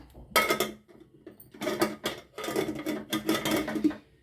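A heavy-bottomed silver pressure cooker being shut over vegetable sambar: several sharp metallic clanks and rattles in quick bursts, close and fairly loud, with short pauses between them and no voices.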